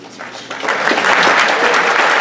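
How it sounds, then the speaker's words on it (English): Audience applause at an FFA banquet, a crowd clapping that swells quickly from scattered claps into steady, dense applause filling the room. "Let's give him a big round of applause"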